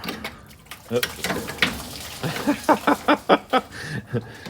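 Water drains out of an engine hose line on a Texas Twister gasser after the hose is pulled off, a run of bubbling gurgles and splashes that grow more rhythmic toward the end.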